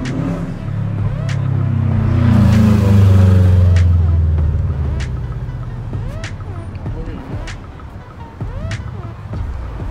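A Corvette Stingray passes on a street, its engine swelling to a loud rumble early on and then fading as it moves away, while people chat over the car noise.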